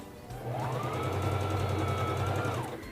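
Singer Fashion Mate 3333 free-arm sewing machine running a short burst of stitches, a close, steady whirring hum with rapid needle clatter that ramps up, holds for about two seconds, then winds down.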